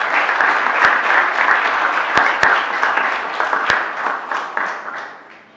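A Youth Parliament audience gives the youth Prime Minister a full round of applause. Many hands clap loudly and steadily, with a few sharp individual claps standing out, and the sound gradually fades toward the end.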